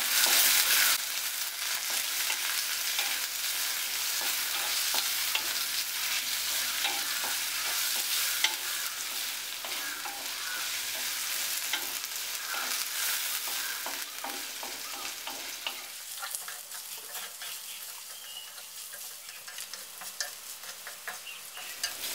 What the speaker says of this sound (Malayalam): മൂന്ന് പച്ചമുളക് കീറിയത് കുറച്ച് കറിവേപ്പില ഇതൊന്ന് മൂപ്പിച്ചെടുക്കാം